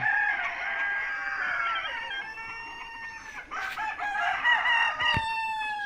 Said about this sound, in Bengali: আমাদের মুরগি ভোরবেলা কলহ শুরু করে দিছে